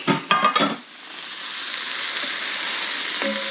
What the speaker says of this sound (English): I'm going to throw in my sausage. This has been smoked, but it's not. It needs to be warmed up and cooked through.